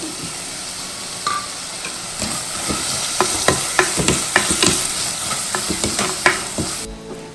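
Spices, crushed shallots and curry leaves sizzling and being stirred in hot oil for a spicy fish curry: a continuous frying hiss with sharp spatula scrapes and pops, close, with no talking.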